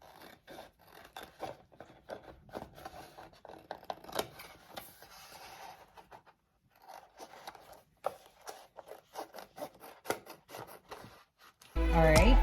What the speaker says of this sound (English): now I'm going to get a pair of scissors and cut him out